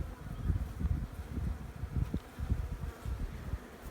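Honeybees at an opened commercial hive hum in a steady, close, low drone that swells and dips slightly but never stops, with no voices.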